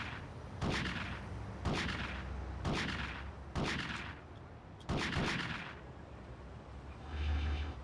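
Gunshots in GTA: Chinatown Wars, five loud booming shots spaced about a second apart, each with a short decaying tail, with a brief reload-like clatter near the end.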